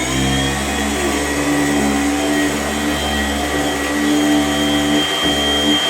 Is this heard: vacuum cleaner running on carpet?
yes